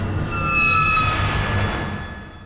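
A short horror accent from a music library sound set, a shrill metallic squeal sweeping over a rough rumbling bed that swells and then fades, heard alone.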